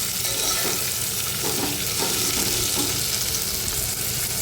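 Tomatoes being stirred into sautéed onions in a pan for soybean pulao, a steady sizzle with soft scraping stirs and a faint watery hiss throughout.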